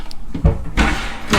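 Sliding door inside a sailboat cabin, opened or closed with a short knock followed by a brief rumbling slide and a soft stop, close and clear with no talk.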